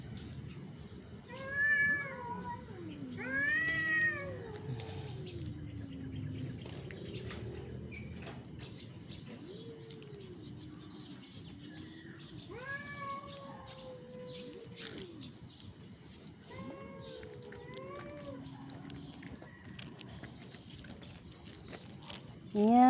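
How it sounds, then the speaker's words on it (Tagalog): Two cats fighting outdoors let out repeated wavering yowls in separate bursts across the span, with quieter gaps and a voice speaking in the background. "Ayan, dalawang pusa nag-aaway sila."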